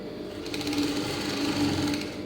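A sewing machine stitches a lined blouse, its needle running in a steady, even hum at close range for a couple of seconds with no voices.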